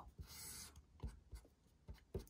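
Hand-written characters scratch and tap as a pen moves across paper in short strokes. The sound is quiet and close, with a longer scratchy stroke near the start, and there is no talk.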